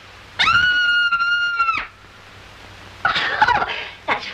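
A woman in a 1948 radio mystery drama lets out a loud, sustained high-pitched scream lasting over a second, followed after a pause by excited voices.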